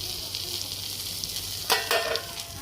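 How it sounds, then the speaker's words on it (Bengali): Bitter gourd and leftover potato fry in a pan with a steady, gentle sizzle. A few louder stirring scrapes come in quick succession toward the end, and no one speaks. "একটুখানি আলু বেঁচে গিয়েছিল, তো সেটা এই উচ্ছের সাথে এরকম ভেজে নিচ্ছে।"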